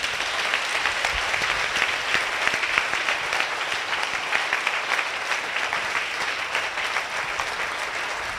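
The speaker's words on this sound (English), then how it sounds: "Clap hands for Holy Spirit." A church congregation claps together in praise during a prophetic worship service, loud, sustained and dense, with no pauses throughout.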